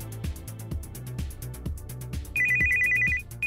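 An HTC smartphone plays its incoming-call ringtone, a bright, rhythmic electronic melody that repeats in even pulses and swells louder near the end, with no talk over it.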